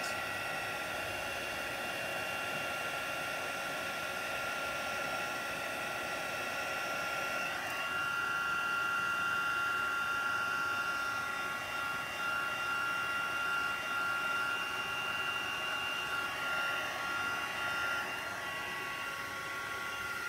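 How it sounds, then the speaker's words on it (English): A heat gun blows hot air steadily over a craft board to melt a sparkly unicorn design, a continuous close whooshing roar that swells slightly partway through, with no talking. "While I've got the heat gun out and hot, I will just do the inside"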